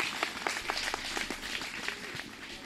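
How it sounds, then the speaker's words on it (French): A crowd at a women's peace event in Casamance, Senegal applauding steadily, many hands clapping at once in a dense, continuous patter that fades slightly toward the end. "Il faut l'applaudir fortement."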